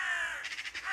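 A single crow caws harshly, a drawn-out call breaking into a few quick rasping pulses, fairly close and clear.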